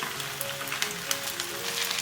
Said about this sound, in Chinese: 煎一下呢，它能够很快定型。